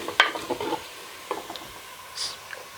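Onions browning in a pan for mutton curry give off a quiet, uneven sizzle broken by a few light stirring clinks and scrapes, close and fairly faint.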